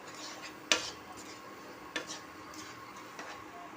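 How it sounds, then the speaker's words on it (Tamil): A spoon stirs a sweet cashew and coconut filling for kozhukattai in a pan: three quiet metallic clinks against the pan, spaced over a soft, steady scraping, with no voices. "முந்திரி பருப்பை சேர்த்து கிளறி கொடுத்துக்குவோம்."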